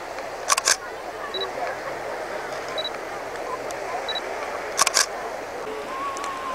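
Two sharp double shutter clicks from a Pentax DSLR camera a few seconds apart, with soft focus-confirm beeps between them, close by over a quiet background hiss.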